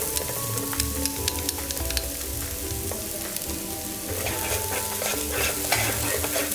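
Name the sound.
minced ginger and lemongrass frying in oil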